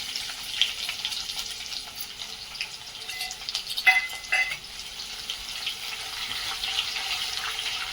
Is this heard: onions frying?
yes